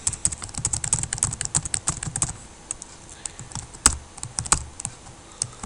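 Quick typing on a computer keyboard into a document, with a close, busy run of clicky keystrokes and a few sharper key hits near the end.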